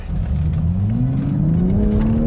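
A BMW M2 sports car engine revs loud and steady during a controlled drift, its pitch climbing gradually with constant close engine roar.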